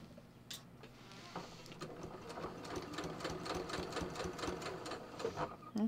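A sewing machine stitching darts on a pants muslin, a close, rapid mechanical chatter in quick repeated bursts that runs steadily with brief pauses.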